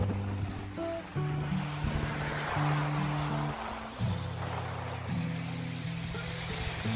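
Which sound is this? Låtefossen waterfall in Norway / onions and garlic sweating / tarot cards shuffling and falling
Låtefossen waterfall in Norway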